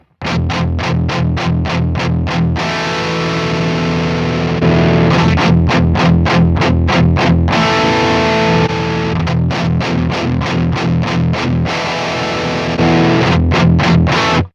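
Electric guitar played through a Neural DSP amplifier simulation set to Class A, heavily distorted chugging palm-muted riffs alternating with sustained ringing chords, loud and alone.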